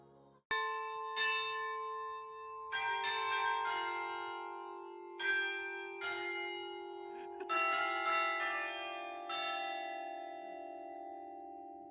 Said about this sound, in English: My bad, I forgot about the bells.